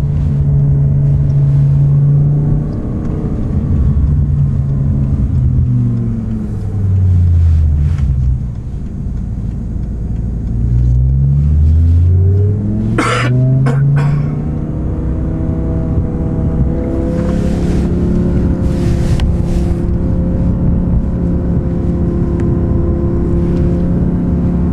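BMW M5 and Ferrari F430 accelerating in a race from a rolling start, engine notes climbing through gears, one passing close with a loud sweep, then both fading into a distant rumble.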